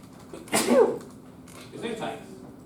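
A single sneeze bursts out sharply at a moment's notice in an indoor room during a web programming lecture, followed by a quieter breathy sound.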